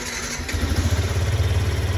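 A 2023 Yamaha Crosser motorcycle engine running on ethanol in cold weather catches and settles into a steady, throbbing idle close by, its low pulsing rhythm continuing without any talk.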